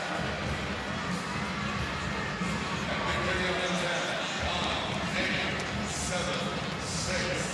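An arena crowd at a CSM Bucuresti versus Gyori Audi ETO KC handball match keeps up a loud, continuous roar of cheering and chanting. A commentator talks over it.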